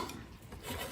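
A knife cuts along the bone of a herby roast chicken, giving a short, close, raspy rubbing scrape with no talking.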